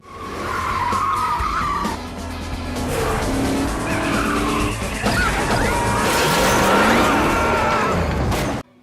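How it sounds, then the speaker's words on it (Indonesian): Film car chase with tires squealing and skidding over roaring engines, loud and busy, with crash-like impacts mixed in and a sudden cutoff at the end. "Alhasil aksi kejar-kejaran pun berlangsung dengan sangat epik."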